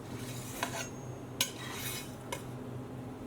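A knife cuts and lifts a slice from a rich Cadbury chocolate mud cake, giving a few faint, close metallic clinks and taps against a plate, spaced irregularly over a soft background.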